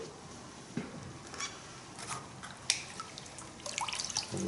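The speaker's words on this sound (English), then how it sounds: "So use a squirt bottle and move it over to a little smaller pan." Water from a squirt bottle rinses leftover sluice-mat material into a smaller gold pan outdoors, giving scattered light drips, splashes and patter that grow busier toward the end.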